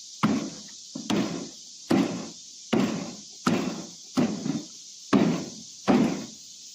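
Screws are driven while installing a Velux sun tunnel, heard as a series of about nine sharp, close knocking bursts at a steady rhythm, each with a short rumbling tail, with no talk.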